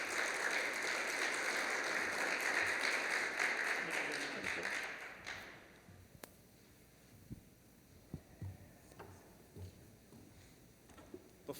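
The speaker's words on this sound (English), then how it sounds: "Round of applause, please." Audience applause at an Internet 2.0 Conference panel discussion, a steady dense clapping for about five seconds that fades out into quiet room noise with scattered small knocks.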